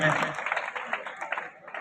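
Audience applause at a Sambalpuri poetry recital at a college, a short burst of clapping from a crowd that fades after about a second and a half, with a voice over it.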